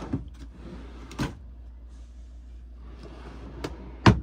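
Two drawers in a 2023 Host Cascade truck camper on a 2022 Ford F350 are pulled open and pushed shut, giving a few sharp wooden knocks and slides near the start, middle and end, close and fairly quiet, with no talking.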